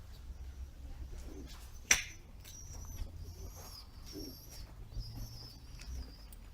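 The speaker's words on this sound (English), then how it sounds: "The pigeons are massing." Pigeons cooing inside an abandoned equestrian center, soft repeated coos over a quiet hollow room tone, with one sharp knock or clap and faint rustling in between.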